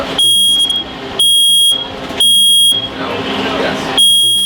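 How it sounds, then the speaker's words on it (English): A smoke alarm set off by a faulty washing machine sounds loud, shrill beeps in a steady on-off pattern of about one second each, with talk and background noise beneath. "Something faulty within the washing machine has set off the alarm system."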